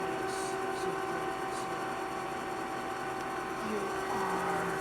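A Naridini Mascote MS1640 lathe runs at speed up to 400 RPM with a steady mechanical hum and whine. Faint voices can be heard under the machine.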